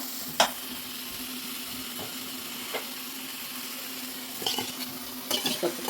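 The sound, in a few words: sorrel leaves stir-frying in a pan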